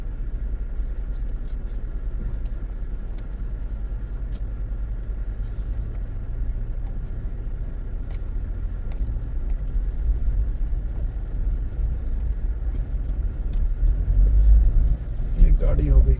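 Low engine rumble as a vehicle comes the other way and passes on a narrow, rock-strewn mountain road near Rishikesh above the Ganges valley, swelling louder toward the end.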